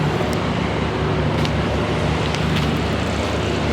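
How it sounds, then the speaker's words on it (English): Steady, loud wind and road roar inside a moving truck, a constant broadband rush with no breaks that fills the whole stretch. "all that noise from the wind from driving the truck"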